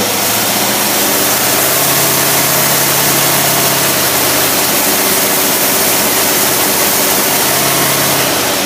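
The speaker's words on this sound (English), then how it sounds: "Now the more we rev that up, the more load it puts on it." A Cadillac engine fitted with a Carter AFB carburetor running under load, giving a loud, steady, close roar with a low droning hum throughout and no talk.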